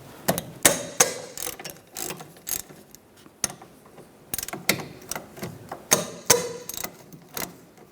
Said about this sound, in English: Using a 13mm socket, take the 2 caliper bolts off.